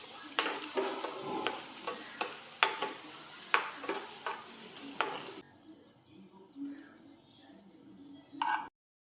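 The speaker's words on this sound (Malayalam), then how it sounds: "നമുക്കിനി ആ എണ്ണയിലേക്ക് തന്നെ നമുക്ക് കുറച്ച് കാഷ്യൂ മുന്തിരിയൊക്കെ ഇട്ട് വറുത്ത് കോരി എടുക്കാം." Cashews and raisins frying in hot oil for ghee rice, a steady sizzle broken by repeated sharp scraping stirs of a spoon, up close, before the frying noise drops away and only faint kitchen clatter remains.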